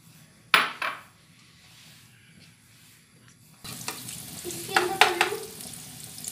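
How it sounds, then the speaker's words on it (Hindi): Egg frying with garam masala in a pan: a sharp clink of utensil on metal, a quieter lull, then a louder sizzle with stirring scrapes and a few more knocks near the end. "फ्राई करने लगी हूँ"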